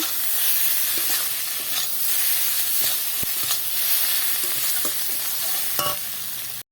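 Egg curry with kasuri methi and fried eggs is stirred in a hot pan, giving a loud, continuous sizzle and hiss broken by scraping strokes of the spoon at irregular intervals.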